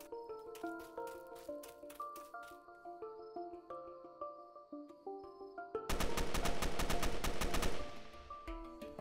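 Gunfire in the Roblox game Fallen Survival: steady tonal game music gives way to a dense, loud two-second burst of rapid automatic shots, then quickly fades.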